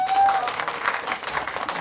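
A comedy club audience answers with a brief round of applause, a short patch of clapping with a few scattered crowd voices.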